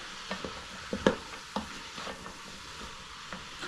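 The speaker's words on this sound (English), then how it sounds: "I like to just stir them around in the meat and the onions just for 2 or 3 minutes" Potatoes and carrots get stirred around in meat and onions in a pan for Japanese curry, with a few scattered scraping knocks over a quiet sizzle, close and unaccompanied by speech.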